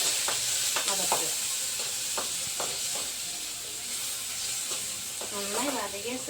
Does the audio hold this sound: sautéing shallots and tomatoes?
yes